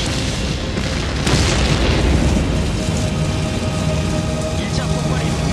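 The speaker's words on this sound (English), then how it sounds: "Windows are shattered and dozens of cars destroyed in the mammoth explosion." A massive fuel canister explosion at a burning gas station roars out as a loud, sustained rumbling boom, dense and crackling throughout, like a blast still reverberating with debris and fire.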